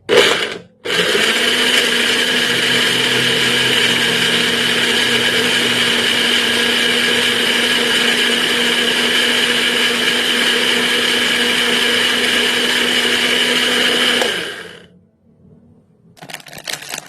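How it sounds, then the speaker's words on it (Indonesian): A blender grinding shallots and garlic whirs loudly and steadily for about fourteen seconds, then winds down and stops, followed by brief handling noise. "Bawang merah dan bawang putih akan kita blender sampai halus."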